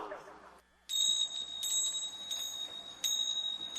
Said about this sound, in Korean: 그는 복사가 치는 종소리와 동시에 마음속으로 소리질렀다.